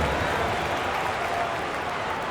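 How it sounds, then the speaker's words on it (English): Crowd applause from the arena in the basketball video game NBA 2K25, a steady wash of clapping and cheering that fills the moment with no pauses. "Give yourself a round of applause"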